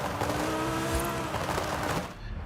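A Lotus Exige Cup 430 engine in Forza Horizon 5 revs loud and close, with dense harmonic growl, a brief low thump near the middle and steady high-rpm roar throughout.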